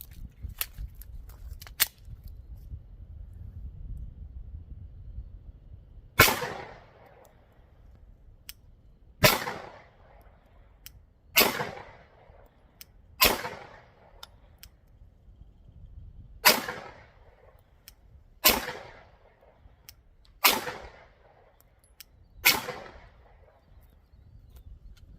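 Nine single 9mm handgun shots ring out one by one at uneven intervals of two to three seconds, each a sharp loud crack followed by a short echoing decay, preceded by a few faint clicks and low rumble.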